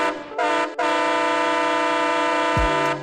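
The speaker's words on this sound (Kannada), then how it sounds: "ಮೂರನೇದು two short and 1 long horn" A loud, close train horn sounds a short blast, pauses briefly, then holds a long, steady, harmonically rich tone for over two seconds before cutting off.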